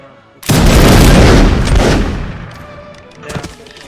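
A company of musketeers fires a volley in the Mount and Musket battle game: one loud, near crackling blast of overlapping shots that rolls on and fades over a couple of seconds, followed by a smaller distant pop.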